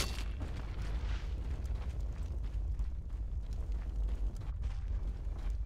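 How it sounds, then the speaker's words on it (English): Battle noise fills a Dota 2 match as a tower comes under attack, with a dense, rumbling wash of low booms and impact bursts rolling on steadily at a moderate distance. "Radiant's middle tower is under attack."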